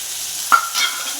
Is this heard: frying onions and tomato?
yes